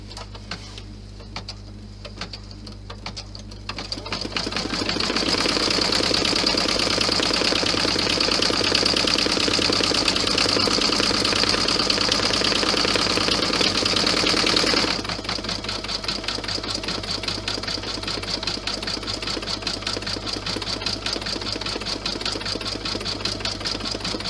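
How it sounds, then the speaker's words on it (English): An embroidery machine stitches out the red parts of a key clutch in a loud, rapid, steady needle chatter. The pace shifts slightly partway through, and the chatter is heard alone without talk. "So we're going to stitch out the red parts now."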